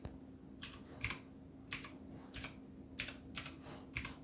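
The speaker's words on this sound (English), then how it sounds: "now we can either use the external keyboard, so I can just type in, click on the box." Typing on an external keyboard connected to a PinePhone: a few scattered clusters of crisp key clicks, close and fairly quiet, over a faint steady hum.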